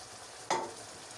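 Meat goes into a pot of simmering Turkish eggplant kebab stew: one sudden splash with a hiss, easing back into a low, steady bubbling simmer.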